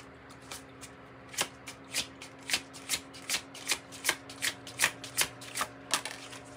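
Oracle deck from the In the Shadows set being shuffled by hand, a steady run of about fifteen crisp riffling bursts that grow slightly louder, close up with no talking.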